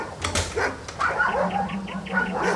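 A dog on a chain at night barks and whimpers in short yipping bursts, close by, several calls over a few seconds above a faint low hum.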